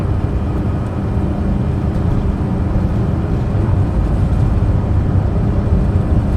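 Steady, loud drone of an aircraft engine at full throttle during takeoff in Flight Simulator 2020, a constant low rumble holding evenly throughout with no voices.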